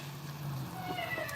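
A cat meows softly in a kitchen during a mushroom risotto cooking session, one or two short mews rising over steady background room noise, with faint talk nearby.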